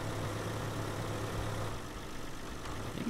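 Farmall tractor engine idling in Farming Simulator 2013, a steady low rumbling drone held at an even, moderate level throughout, with no talk.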